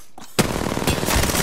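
Sudden loud burst of rapid automatic gunfire from a nearby shooter in a video game, sustained continuous rattling after a brief quiet start.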